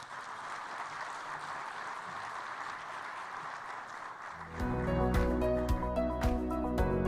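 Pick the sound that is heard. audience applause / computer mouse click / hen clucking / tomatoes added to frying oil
audience applause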